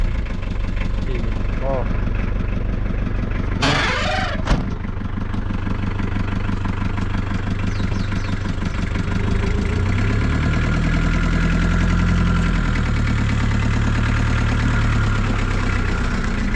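A muscle car used in the film James starts with a brief sharp burst, then settles into a steady, loud, rumbling idle that runs close by for the rest of the clip.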